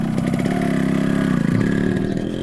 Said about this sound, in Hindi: अपनी बाइक तक पहुंचा और दिल्ली के लिए निकल लिया